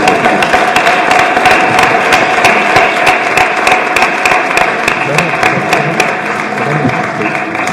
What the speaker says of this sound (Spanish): cerramos esto con un aplauso extraordinario aquí para Carlos y agradeciendo su enorme trabajo